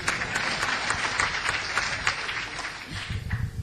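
An audience applauds at an IIT Bombay Avenues 2010 event with Kamal Haasan: dense, steady clapping from a large crowd that fills the whole stretch and swells slightly near the end.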